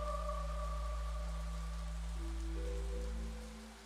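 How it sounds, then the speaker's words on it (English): Rain falling across a storm-swept landscape in a video game trailer, a continuous wash of rainfall under low sustained musical tones, steady and fairly loud before fading at the end. "Across the rain-swept landscape"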